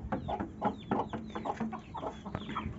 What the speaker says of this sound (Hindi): ये भी मुर्गी बाहर निकल आई है